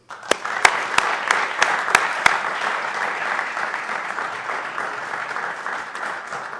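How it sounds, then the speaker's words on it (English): At a school athletics signing ceremony, a few sharp, distinct claps ring out near the start, then the crowd swells into steady, moderately loud applause that carries on to the end. "Join me in a round of applause for these 3."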